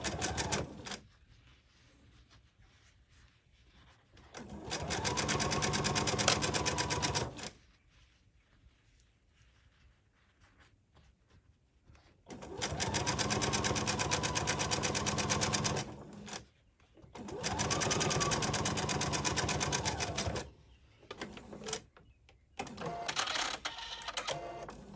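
A sewing machine runs long basting stitches at a 5.0 stitch length along a shirt collar edge with a 1/4 inch seam allowance. It whirs in four steady, close bursts of rapid needle clatter separated by quiet pauses.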